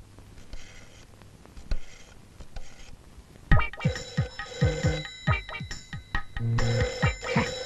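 A telephone bell rings in repeated bursts, loud and near, with scraping and knocking sounds and brief voices mixed in around it.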